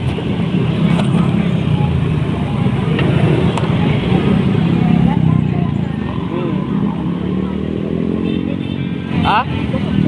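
Road traffic heard from inside a moving car, a steady loud rumble of engines and passing motorcycles with a brief horn-like tone near the end, while people talk.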